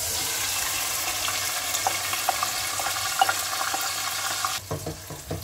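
Chicken sliding into hot oil with cumin seeds, a steady close sizzle with small pops, then a sudden drop into sparser crackle and stirring near the end, no talking.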